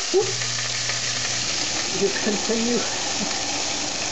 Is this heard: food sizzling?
yes